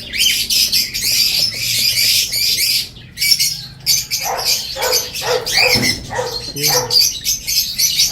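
A large, noisy bird squawks repeatedly in harsh, loud bursts close by, with short pauses between calls and a single brief word spoken in between.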